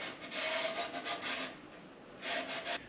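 A cloth with a little wax and grease remover wipes an internal engine part clean, giving soft, close scrubbing swishes in two short bursts separated by a pause.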